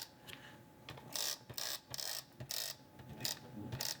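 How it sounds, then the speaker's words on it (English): Adhesive is applied to the back of a sheet of paper for a Christmas card layout, giving quiet ratcheting clicks and short rasping bursts in an uneven rhythm, close by and without talk. "I'm going to add my adhesive to the back of this real quick."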